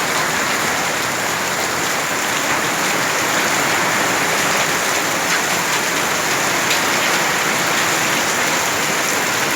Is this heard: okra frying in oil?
no